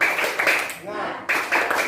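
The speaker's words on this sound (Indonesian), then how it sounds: "marilah kita sama-sama melakukan tepuk semangat ya semuanya" A class of pupils does a rhythmic spirit clap together, bursts of clapping in quick groups around a brief quieter pause, close and fairly loud, with voices joining in.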